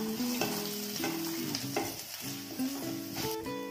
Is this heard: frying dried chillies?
yes